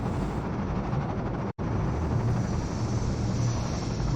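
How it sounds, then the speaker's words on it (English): Combine gunships in Half-Life 2 fly over City 17 as a constant, distant airborne roar and rumble, broken by one brief dropout, with no voices. "Gunships flying out in City 17 to try and stop the resistance."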